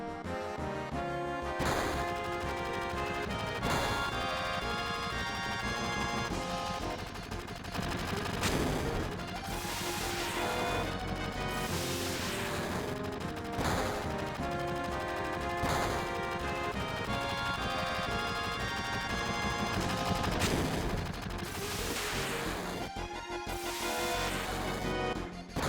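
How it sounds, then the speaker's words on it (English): Sustained gunfire in Final Fantasy VII, rapid bursts and sharp cracks layered over a loud, dense bed of explosions and background game music with no pauses. "Gunfire?"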